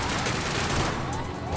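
Dense, continuous gunfire from a GTA V roleplay shootout, a loud unbroken burst of rapid shots filling the whole moment with no gaps or speech over it.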